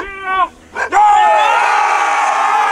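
A group of people on a film set let out a loud, sustained shouted cheer on cue, rising abruptly after a brief voice and a short pause and holding steady at full volume to the end.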